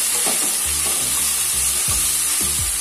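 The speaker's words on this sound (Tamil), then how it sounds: "இப்போ அடுத்து தக்காளி சேர்த்துக்கலாம்" Tomatoes sauté with onions in a pan for tomato chutney, making a loud, continuous sizzle and hiss close by, with regular scraping stirs cutting through it. No one speaks.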